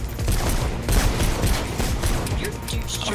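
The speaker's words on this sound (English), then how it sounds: "I'm shooting him in the peen." Gunfire from the video game Mirror's Edge, a dense run of loud, rapid shots and impacts repeating across the whole stretch, layered with game effects and a voice talking over it.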